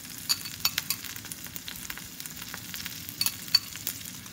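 Beans mixed with small spicy chili peppers fry in a pan, giving a low steady sizzle broken by faint irregular crackles and pops, with no talk over it.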